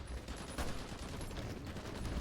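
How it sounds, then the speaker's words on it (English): Gunfire sound effects from the strategy game Kaiserreich: faint, continuous rattling volleys of shots that blur into a low background crackle. "there is constant gunfire to the north of that position"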